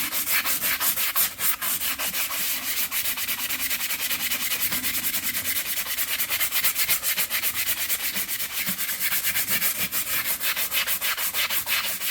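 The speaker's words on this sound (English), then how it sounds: "A little bit of sand just to clean it all up, make it look pretty." A farrier sanding a horse's hoof before fitting special shoes and pads, a steady loud rasping rub with rapid repeated strokes, close and continuous with no talk.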